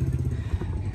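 A tuned motor on a small boat runs on a canal, giving a loud, rough low rumble that stays steady throughout a short burst.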